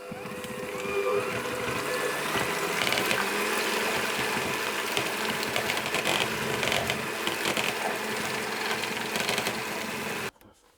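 Double cream whisked by hand or electric whisk in a bowl for a Guinness cake, a steady continuous whirring and rattling that runs unbroken for about ten seconds before stopping abruptly.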